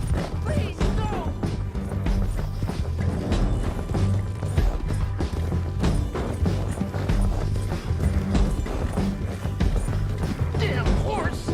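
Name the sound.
horse hooves galloping in video game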